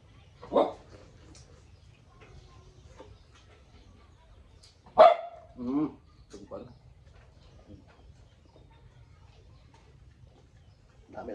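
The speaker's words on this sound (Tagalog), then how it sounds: "Aso natin ito" A dog barks a few times in short, sharp bursts against a quiet background, with brief pauses between barks and a little faint talking.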